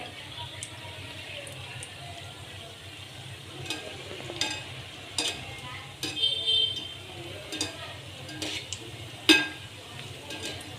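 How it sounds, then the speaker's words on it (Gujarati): Potli dumplings frying in hot oil over low heat, with a low steady sizzle broken by occasional clinks and stirring scrapes of a utensil against the pan, fairly quiet, with brief voices in the background. "ધીમા ધીમા તાપે ગરમ તેલ થાય ને એમ થોડું કરે રાખવાનું, જેથી પોટલી સરસ રીતે ચડી જાય, કાચી ના રહે"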